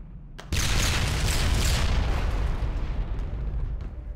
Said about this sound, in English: That was a bigger explosion than I was expecting